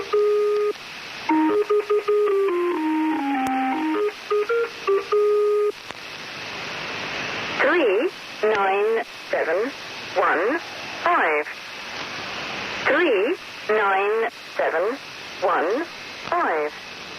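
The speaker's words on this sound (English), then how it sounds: "My all-time favorite number station is the Lincolnshire Poacher" Shortwave numbers station broadcast known as the Lincolnshire Poacher: a tinny electronic folk-tune melody plays first, followed by repeated synthetic voice-like bursts in a steady cadence over a constant radio hiss and carrier tone.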